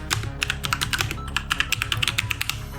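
Rapid typing on a computer keyboard, a dense run of crisp, close key clicks in an irregular rhythm, with no talk.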